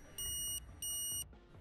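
The OEA Safeguard physical distancing tag sounds its caution alert as two short, high-pitched electronic beeps at an even pace, clear over a low background hum.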